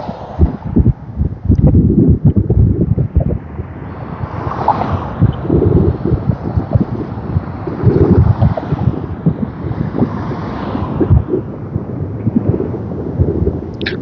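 Gusty wind buffets an outdoor microphone on a breezy day in the mountain town of Woodland Park, Colorado, giving steady low rumbling thumps and roar that swell and ease throughout, with no talk over it.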